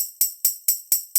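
A tambourine sample in a deep house beat plays straight eighth notes: five evenly spaced, bright jingling hits, each with a crisp attack and short ringing decay, heard close and on its own.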